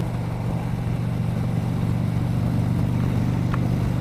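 Steady low engine drone and road rumble from inside a car cruising at about 80 on a North Carolina highway, constant and even throughout, with no talking.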